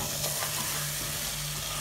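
A frying mixture of coriander leaves and spices for beef rice, stirred in a pan, gives a steady soft sizzle with faint scraping. It sounds close and continuous, with no talk.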